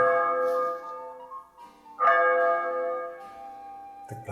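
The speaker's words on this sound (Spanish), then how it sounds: "Escuchemos el toque de gloria." Church bells ring the toque de gloria for a dead girl. Two clear struck tolls about two seconds apart each hum and slowly decay, followed by a brief noise at the end.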